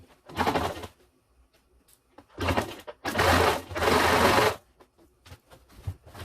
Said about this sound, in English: I got my new walking foot sewing machine.